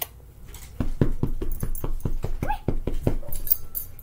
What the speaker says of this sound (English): This is my doggy Layla. She's very cute and very nice